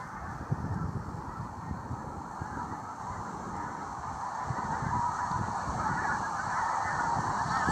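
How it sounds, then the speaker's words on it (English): Birds nesting in beach grass near a pier call continuously, a dense chorus of honking, goose-like cries over a steady outdoor wash, moderately distant with no talking. "we've got a lot of birds nesting in the grass further along the beach there"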